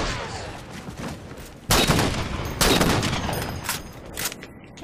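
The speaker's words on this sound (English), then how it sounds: "Getting shot at by the whole team." Rapid bursts of gunfire aimed at the player in a shooter video game, with several loud overlapping volleys and clattering shots close by, swelling and fading over a few seconds.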